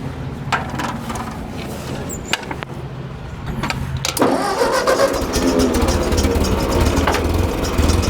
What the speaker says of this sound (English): You can hear that fan on the alternator.